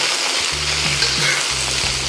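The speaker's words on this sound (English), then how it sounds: "Just gonna give it a stir fry" Cabbage and Chinese sausage sizzle steadily in a hot pan while being stir fried, a continuous close crackle with a few soft scrapes of the spatula.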